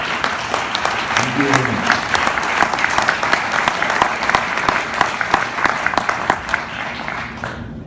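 A hall audience gives sustained applause for a doctor at a medical association presentation, loud dense clapping throughout, with someone briefly speaking over it before it fades at the end.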